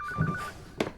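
Telephone ringing indoors in a short burst, a steady electronic ring tone heard moderately loud on its own.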